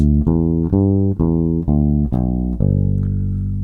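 A bass guitar plays a short, steady line of low sustained notes, each cleanly plucked in even succession, close and alone.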